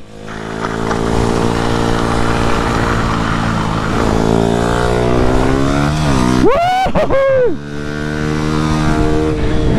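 A motorcycle with no engine braking drones loudly up close at a steady pitch that rises gradually, then briefly dips and rises sharply twice as the throttle is blipped before resuming its steady run.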